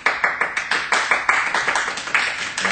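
An audience claps in quick, steady bursts, close and lively, with a dense rhythmic patter of many hands and no talking over it.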